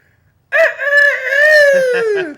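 A single crow, drawn-out and strained, that rises and then trails off, close and loud, from a young rooster just learning to crow, or a person imitating one.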